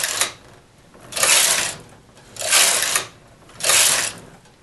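Knitting machine carriage sliding across the needle bed to knit rows, three loud whooshing, rattling passes at an even pace with short quieter gaps between them.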